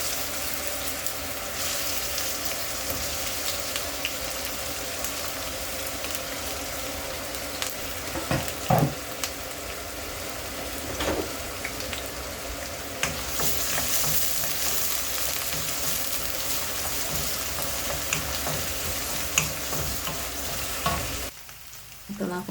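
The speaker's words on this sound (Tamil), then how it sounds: "ஆயில் சூடானதும் வெங்காயம் பச்சை மிளகாய் போட்டு வதக்கிக்கலாம்" Onion and green chili sauté in hot oil for vendakkai puli kulambu, giving a dense, continuous sizzle and crackle with occasional soft stirring knocks, steady and close throughout.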